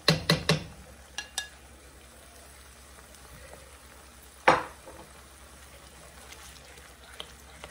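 A spoon stirs sweet halwa made from assorted sweets, with no added sugar, in a cooking pot: a quick run of clinks against the pot, a later sharp scrape, and soft sizzling in between.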